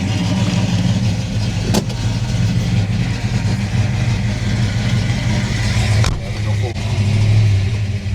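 A 1968 Chevelle SS 396 with a roller cam out for a drive, its V8 a loud, continuous low rumble inside the car with swells of revving, and talk faintly under the engine noise.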